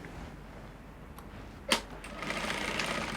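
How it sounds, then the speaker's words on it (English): Sewing machine top stitching a band onto a puff sleeve, a low steady hum with a brief sharp click partway through before the stitching picks up and grows slightly louder. "So you're going to top stitch the band to this point."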